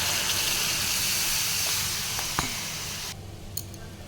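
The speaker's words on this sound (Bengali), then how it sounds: "মশলাটা ভালোভাবে কষানো হয়ে গেল, এর মধ্যে জল দিয়ে দিলাম।" Water poured into fried poppy seed masala in a pan gives off a loud, steady steam hiss. It drops off sharply near the end, with a few faint clinks.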